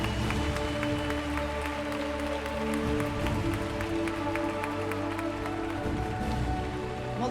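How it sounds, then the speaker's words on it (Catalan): Applause from a crowd at a school end-of-year party, a dense steady patter of clapping that carries on evenly for several seconds, with no talk over it. "Molt bé, un fort aplaudiment!"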